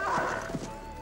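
A horse whinnies loudly and briefly, close by, with a rough, breathy neigh over a steady background hum, in an animated cartoon.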